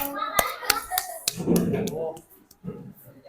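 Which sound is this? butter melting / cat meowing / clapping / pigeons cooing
clapping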